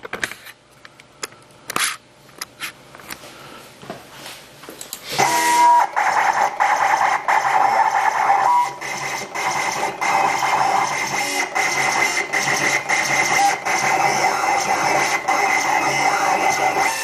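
A Refine PE361 vinyl cutter cuts a sign: a few clicks and short motor whirs, then a loud continuous buzzing, whining drive with shifting pitch as the blade carriage moves, close and alone.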